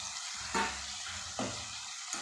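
Cut eggplant and green chili dropped into sizzling spices in a pan, a continuous close fry with a few brief scraping stirs.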